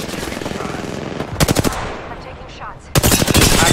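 Rapid automatic gunfire in the video game Apex Legends, loud bursts of fast shots in two main volleys with a lull between, close and dominant over faint game ambience.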